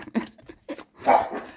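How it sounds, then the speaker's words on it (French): Small dogs bark and yip repeatedly in quick, close bursts, loud and clear with no talk over them. "vous avez le bonjour de mes petits chiens."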